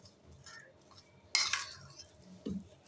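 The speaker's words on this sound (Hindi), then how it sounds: "चम्मच लेकर आपने इसको अच्छे तरीके से मिक्स करना है" A spoon mixing a leftover roti snack mixture in a dish, with a quiet background, one sharp metallic clink and a short scrape, then a duller knock, close and brief.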